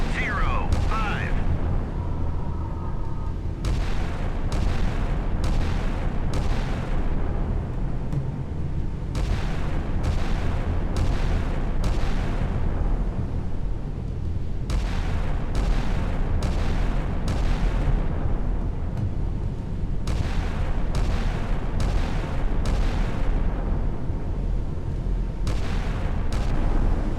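Pakistani warships firing naval gun salvos in the naval combat game Sea Power, a rapid series of heavy booming shots in irregular bursts over a constant rumbling background, loud and sustained.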